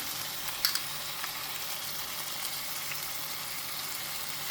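Green masala sizzles and fries in hot oil in a pan for Goan tandoori pomfret, a steady close crackling hiss with a few sharper pops and no voices over it.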